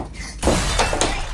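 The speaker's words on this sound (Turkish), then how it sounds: "Telefon düştü." A sudden crash of a phone hitting the floor and shattering, followed by a brief scatter of breaking bits, close and loud.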